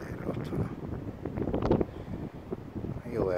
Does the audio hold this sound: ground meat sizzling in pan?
no